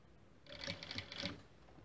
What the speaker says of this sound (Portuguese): Eu vou começar a costura.